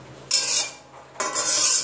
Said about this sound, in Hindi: इसको तड़का लगा लेंगे।